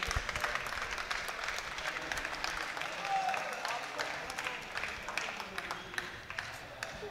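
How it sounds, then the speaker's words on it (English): Applause from a crowd at a FIFA 14 esports grand final, with steady clapping that sounds somewhat distant and holds at an even level throughout. "let's give them a round of applause for their efforts this weekend"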